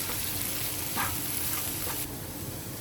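Onions frying in a pan, a steady close crackling sizzle with a few brief louder pops, no voices.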